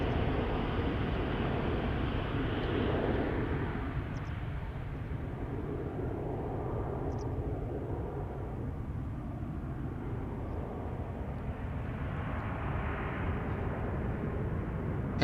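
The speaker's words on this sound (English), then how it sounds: "KLM flight 1199 to Oslo, 737-800." A KLM Boeing 737-800 departing Amsterdam Schiphol for Oslo: a broad, fairly distant jet rumble that stays steady and unbroken, with a soft swell in the roar toward the end.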